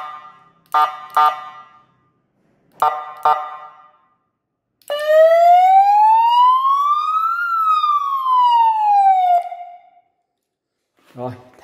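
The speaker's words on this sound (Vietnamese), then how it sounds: "cái loa này kêu rất to cho nên chắc mình sẽ úp lại để giảm bớt tiếng tiếng ồn" A loud alarm siren speaker triggered by a four-channel 315MHz remote, placed face down to muffle it, gives a few sharp clicks, then a long rising-and-falling wail of about five seconds, followed by more clicks.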